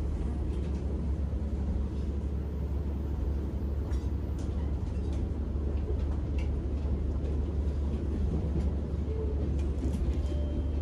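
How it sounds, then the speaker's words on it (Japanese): Futatsuboshi 4047 train pulling out of Arita Station in Saga, a steady low rumble of running gear and wheels heard from inside the carriage, continuous and even throughout. "列車は焼き物で有名な有田駅を出発しました"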